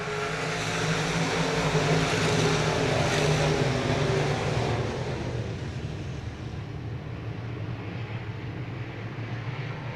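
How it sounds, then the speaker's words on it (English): Race car engines at a speedway restart roar in a dense, steady drone that swells loudly early on, then settles to a slightly quieter continuous rumble of many cars at a distance. "Revving up the engines."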